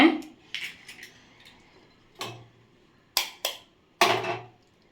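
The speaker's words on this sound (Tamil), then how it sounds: "நம்ம இப்போ முட்டை அடித்து ஊற்றிக்கலாம் சிம்மில் வச்சு ஊற்றுங்க" Eggs being beaten and poured into a pan, heard as a series of sharp metallic clinks and scrapes in irregular bursts, close up, with quiet gaps between.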